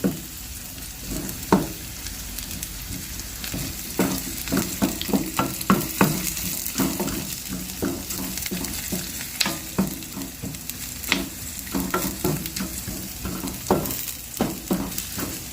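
Aromatics with lemongrass sauté in a hot pan, a steady sizzle broken by frequent clacking stirs of a utensil, close and continuous, no talk.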